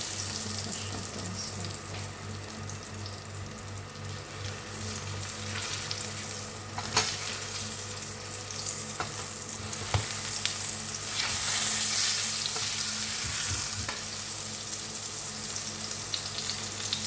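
Eggplant omelette (tortang talong) fries in a pan of oil, a steady close sizzle and crackle running the whole time, with occasional stirring scrapes and clinks and no talking.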